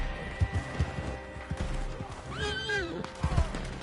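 A horse whinnies sharply in Red Dead Redemption 2 Online on PS5, in the middle of the clip, amid hoof thuds and background game noise.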